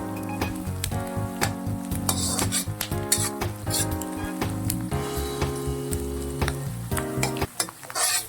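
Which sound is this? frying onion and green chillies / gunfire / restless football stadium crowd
frying onion and green chillies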